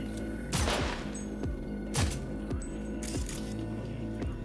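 Gunfire in Cyberpunk 2077: several sharp shots spaced roughly a second or more apart over a constant game background hum, with faint metallic clinks between them.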